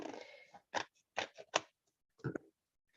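Scissors cut scrapbook paper in a handful of crisp, close snips, spaced irregularly, with quiet pauses between them and a soft rustle at the start.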